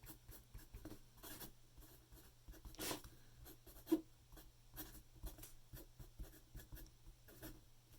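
A stiff-nibbed Parker 51 fountain pen writing on paper, giving faint, close scratchy strokes in short irregular bursts with small taps between them, quiet and without speech.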